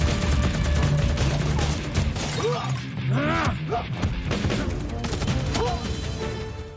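Bursts of gunfire and crashing impacts from a fierce fight scene inside a building taken over by terrorists, sharp shots and shattering clatter layered under dramatic music and effects, loud and dense.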